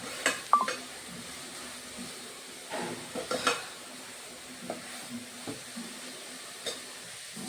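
Tomatoes sautéing in a pan for Tamil-style egg curry, with a faint sizzle and a few soft scraping stirs of a spoon against the pan.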